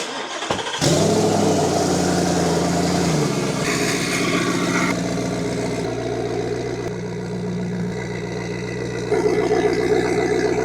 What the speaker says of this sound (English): The truck is super loud, dude.